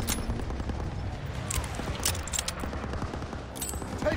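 Machine gun fire in Call of Duty WWII, dense sustained automatic bursts and rattling gunfire close by and loud, with occasional booms underneath and no pause across the stretch.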